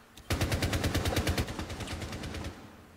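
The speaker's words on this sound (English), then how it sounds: "I mean, I shot him with a shotgun" Rapid gunfire sounds in Rainbow Six Siege gameplay, a burst of about twenty evenly spaced loud shots lasting over two seconds, fading slightly toward the end with no talk over it.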